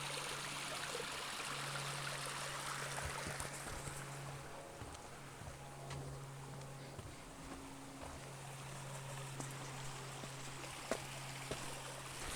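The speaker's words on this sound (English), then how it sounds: "I love the sound of water." Oak Canyon Creek in Mission Trails Regional Park flows steadily at a stream crossing, a continuous close rushing and trickling wash with a faint low hum underneath.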